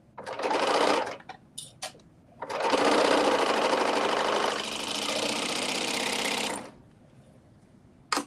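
A sewing machine stitches a dress in loud, close bursts: a short run, a few quick taps, then a long steady whir of about four seconds before stopping.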